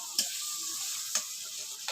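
Prawns fry in a pan with a soft, steady sizzle, broken by a few brief scraping stirs; faint and close, with no talking.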